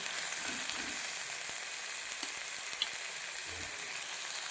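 Finely chopped onion and tomato fry in oil in a pan, a constant close sizzle broken by a few soft scrapes and knocks of stirring, with no voices.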